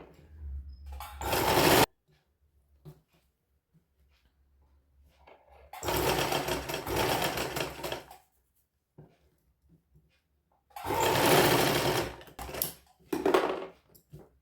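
Sewing machine running in three bursts, stitching the side seam of a child's sharara outfit, with folded side corners; each run is loud and close, separated by quiet pauses.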